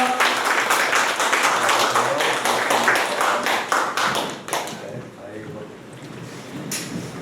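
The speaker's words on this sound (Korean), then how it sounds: "박수현 수석님을 큰 박수로 모시겠습니다" An audience claps to welcome a guest lecturer arriving for an evening talk, with loud dense clapping that thins out and stops partway through, leaving quieter room sounds and a few scattered sounds.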